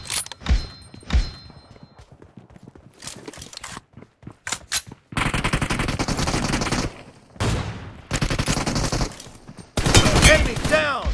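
Bursts of automatic gunfire in the BGMI team deathmatch mode, with scattered single shots early and then long, loud sustained volleys separated by short pauses.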